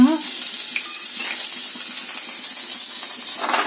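Egg frying in oil with chili powder and turmeric, a steady close hiss and sizzle from the pan with faint stirring, lasting a few seconds without speech.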